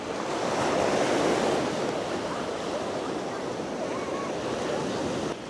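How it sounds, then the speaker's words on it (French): Small ocean waves breaking steadily on a beach at Pointe Vénus, a continuous washing surf roar with some wind noise, fairly close and loud, rising briefly then settling. "Les petites vagues permettent aux surfeurs de s'amuser."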